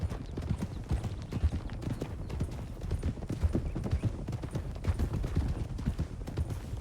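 Horse hooves clip-clop steadily in a Western role-play video game, a dense, continuous run of hoof beats at close range with no talk over them.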